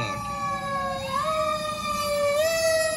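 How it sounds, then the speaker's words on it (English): Emergency vehicle sirens wail steadily along a street in Fort Pierce, the tone rising and shifting pitch as it holds at a fairly loud, continuous level. "that's all you hear over here in Fort Pierce. Sirens, day in and day out."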